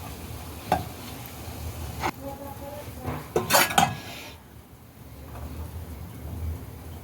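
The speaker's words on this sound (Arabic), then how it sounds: "وهلأ راح أسكب المجدرة" Bulgur mujaddara with lentils being served from a pot with a utensil, giving a few distinct metallic scrapes and clinks spread through the clip over a low kitchen hum.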